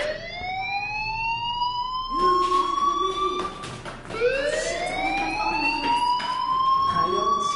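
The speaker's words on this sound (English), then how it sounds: "do you hear that fire alarm? That means you should be outside." A school fire alarm in the video game Life is Strange wails in rising, sweeping tones that restart several times, loud and steady, with a person talking over it.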